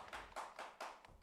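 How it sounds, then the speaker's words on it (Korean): A church congregation claps in applause during a Wednesday worship service, with three or four bursts of clapping rising and falling over a steady patter of hands, a modest crowd heard from a short distance. "우리 다시 한번 박수로 노고를 치하합니다"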